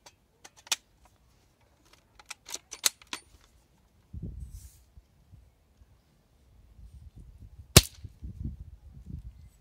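Airsoft replica fitted with a Mancraft SDIK kit fired into a chronograph, a few sharp isolated snapping shots spaced seconds apart, with quiet clicks and handling noise between them.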